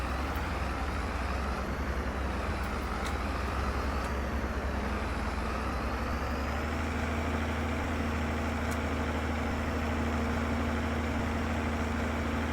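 A tractor engine idling in Farming Simulator, a steady low rumbling drone with constant hum, even and continuous throughout without voices.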